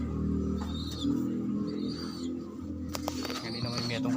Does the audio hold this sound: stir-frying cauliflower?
no